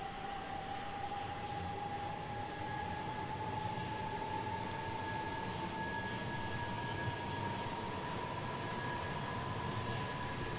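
A BR Class 460 electric train in Train Simulator 2018 runs steadily, with an even rumble and a constant high tonal whine, no voices.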